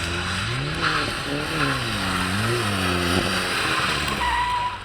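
A front-wheel-drive car slides on a slippery surface with its tires squealing in long wavering tones over a steady engine drone, the skid pitch rising and falling as the car swings, close and sustained.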